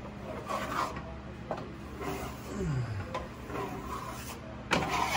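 A steel trowel rasps and scrapes as it spreads blue Venetian plaster across an accent ceiling. The strokes are soft and repeated, with the scraping rising and falling close by and no talking.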